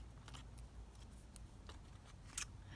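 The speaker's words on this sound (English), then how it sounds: "what I thought that we could do is actually cut the tag shape now" Scissors snip through paper while cutting out a tag shape for a collage craft, a few soft, quiet crisp cuts spread unevenly over a hushed room, one snip sharper near the end.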